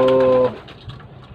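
Pigeons in a racing loft give a short, close cooing call, a loud tonal burst lasting about half a second before fading into quiet loft ambience.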